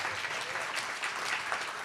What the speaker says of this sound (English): Let's give our team a big round of applause for that